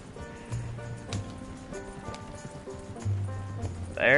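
Hooves pounding in a rapid, steady gallop from horses in Red Dead Redemption 2, near and fairly loud, with a few heavier beats and a brief higher voice-like sound at the very end.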